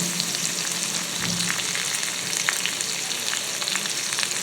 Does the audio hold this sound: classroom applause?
no